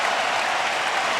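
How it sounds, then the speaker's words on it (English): Arena crowd in Anaheim, California cheering and applauding at a fight event, a dense, loud, continuous roar of claps and voices with no gaps. "They are up and cheering in Anaheim, California."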